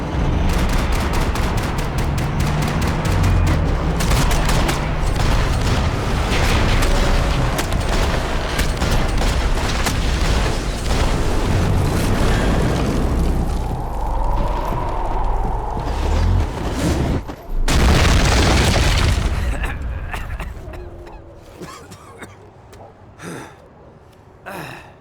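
Gunfire in a Max Payne 3 firefight: rapid bursts and single shots crack over a loud, busy mix of gasps, effort sounds and game noise, then the action tails off into quieter sounds.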